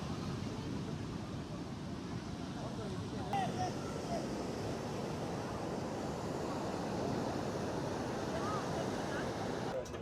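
Sea waves and a breeze at Puri beach make a steady broadband wash of surf and wind rumble, with faint voices in the background.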